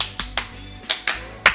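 One person claps their hands a handful of times in sharp, separate, irregularly spaced claps, close by with no talking.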